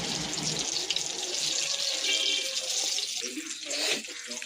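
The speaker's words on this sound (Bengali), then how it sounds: "ভালো করে নেড়ে জল ঢেলে দিয়েছি" Water pours into a pot of chicken soup in a steady, close splashing stream that thins out toward the end.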